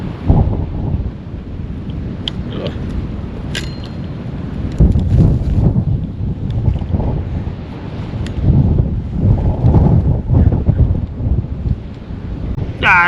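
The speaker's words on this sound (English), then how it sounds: "So windy." Very high wind at a dam buffets the microphone with loud, continuous low roaring gusts that swell and ease throughout, with faint lapping water beneath.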